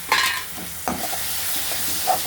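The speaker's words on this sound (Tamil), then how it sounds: "வதங்கினோடனே நம்ம வெங்காயம், பச்சை மிளகா அரைச்ச பேஸ்ட்டை போட்டணும்" Onion and green chili paste hitting hot oil in a pan for paneer gravy, a sharp burst of sizzle followed by a couple of scraping stirs over a steady frying hiss.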